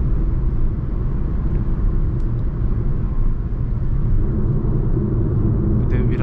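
A 2021 Fiat Egea Cross on a test drive at around 100 km/h, its road and engine rumble steady and loud from inside the cabin, a constant low drone with a brief tick or two.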